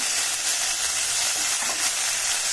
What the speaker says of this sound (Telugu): ఇలా మంచిగా పుదీనా ఇందులో పెట్టి వేయించుకుంటేనే టేస్ట్ వస్తుందండి